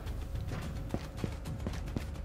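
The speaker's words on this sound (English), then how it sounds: "I hear some more footsteps." Footsteps in the VR shooter Ghosts of Tabor, a series of soft, evenly paced thuds roughly every quarter to half second, fairly faint beneath a steady wash of ambient game noise, without speech.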